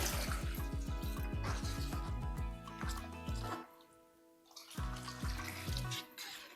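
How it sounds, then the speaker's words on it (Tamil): Water poured into a thick fish curry of tomato and onion in a pan, a splashing liquid stream with a brief pause midway before pouring resumes, close and fairly soft. "இனிமேல் தண்ணி ஊற்றிக்கலாம் ஏன்னா திக்காக இருக்கு"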